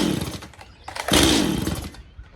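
A Stihl MS180C chainsaw with a fault that makes it bog and die under throttle pops and sputters briefly during a start attempt, a short close burst of engine noise that fades out within a second.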